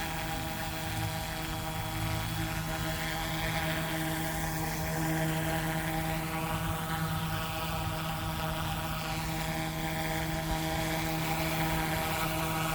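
A Carmanon 27:1 scale Bell OH-58 RC helicopter in flight outdoors over grass, giving a steady high electric whine with a constant tonal hum, fairly close and unbroken for the whole stretch, no talking.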